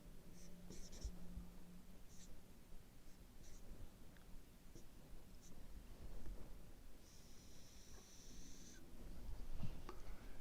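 Marker or pen drawing letters on a supply curve graph, with faint intermittent scratching strokes and taps over low room hum, quiet and close throughout.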